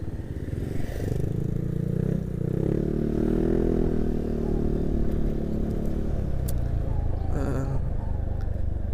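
A motorcycle ridden along a street in Pekanbaru rumbles steadily and close throughout, with wind noise and a few clattering knocks and scrapes, and no talking.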